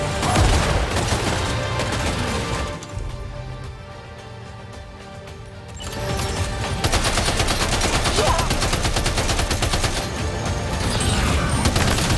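Loud bursts of rapid gunfire in Death Stranding 2, heavy volleys that drop to a quieter lull midway before resuming in dense, continuous firing with booming impacts.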